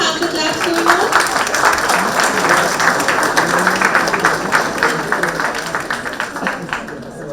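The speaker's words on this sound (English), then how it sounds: "Can we please have the claps going on?" Applause from a summit audience at a sustainable architecture conference during a felicitation ceremony, a steady wash of many hands clapping at moderate loudness, continuing evenly for several seconds before tapering slightly at the end.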